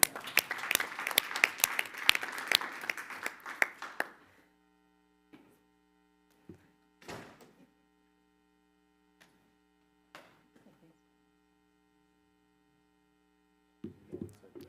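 A short burst of clapping at a Board of Supervisors meeting, fairly loud and lasting about four seconds, then stopping into near silence with steady electrical hum and a few faint isolated knocks.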